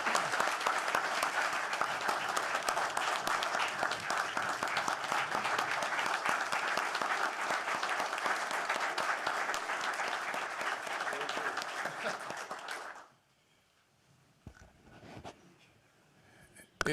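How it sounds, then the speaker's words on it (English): An audience at an Arkansas Game and Fish Commission gathering gives a long, steady round of applause for a retiring fisheries employee; it holds evenly for about thirteen seconds, then cuts off into near silence with a few faint noises. "Big round of applause for Clint."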